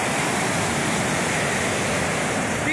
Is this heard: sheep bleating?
no